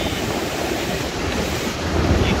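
Waves break and wash on a calm sea at a quiet beach. The surf makes a steady, broad rushing hiss, with wind buffeting the microphone throughout.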